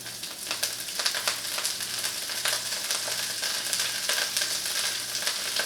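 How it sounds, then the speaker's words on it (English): Napa cabbage frying in sesame oil in a hot pan, a loud continuous sizzle with crackling pops throughout and no talk. "the first thing I'm going to go ahead and add in is the cabbage"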